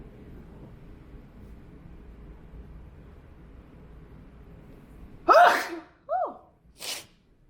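One loud, sharp human sneeze close to the mic, followed by two smaller sneezes or gasps in quick succession, after several seconds of faint background hum.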